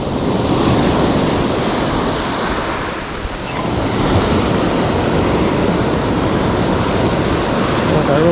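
Rough sea surf pounding a Jamaican shore on a stormy day, a loud continuous roar of breaking waves with wind noise on the microphone, briefly easing mid-clip before surging again.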